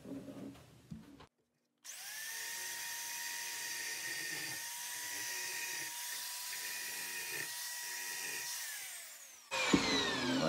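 A wood rasp shapes a wooden sword blade, giving a steady, fairly loud abrasive grating that runs continuously for several seconds after a brief pause, ending with a sharper scrape.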